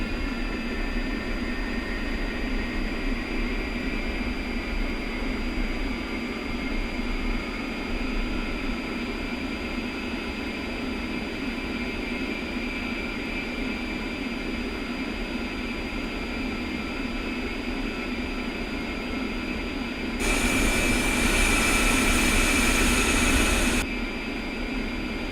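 Both jet engines of an A-10 idling after start-up, a steady whining drone with a constant high tone, briefly joined by a louder broadband hiss near the end.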